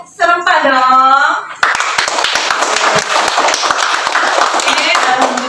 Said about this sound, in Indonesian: Tepuk tangannya yang serempak dong.